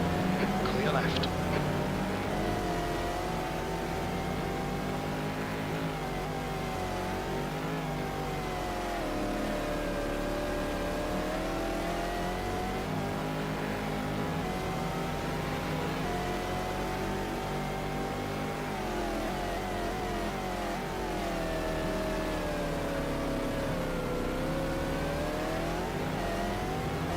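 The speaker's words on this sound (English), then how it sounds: "God, that Porsche engine sounds awful." A Porsche race car engine in a racing video game of the 2000 American Le Mans Series round at Sonoma roars continuously, its pitch rising and falling through gear changes and revs, with a voice talking over it.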